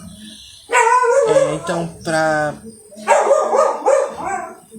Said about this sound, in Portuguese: desculpa o latido no fundo do cachorro